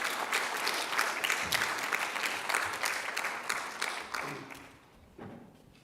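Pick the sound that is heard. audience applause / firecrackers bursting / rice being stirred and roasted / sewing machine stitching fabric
audience applause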